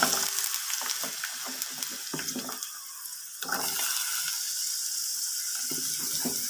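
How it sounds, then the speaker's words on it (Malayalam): Onion sizzles in hot coconut oil with a continuous hiss and crackle, punctuated by the clatter and scrape of stirring, close and moderately loud. "വെളിച്ചെണ്ണ ഒഴിച്ചു. നമുക്ക് ഈ സവാള ഇട്ട് കൊടുക്കാം."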